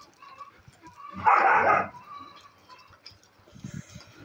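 A shelter dog gives one loud, sharp bark, followed by softer yips and whimpers at a dog shelter, with faint background sounds.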